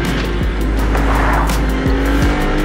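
Maserati MC20 Cielo sports car driving on Sicilian roads, a loud, close engine roar with rising and falling revs and gear changes, sustained and powerful throughout.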